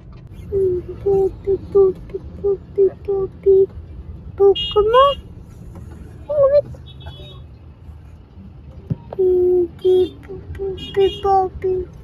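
Road traffic with repeated short car horn toots in bursts, loud and close over a steady low engine rumble, with people talking in between.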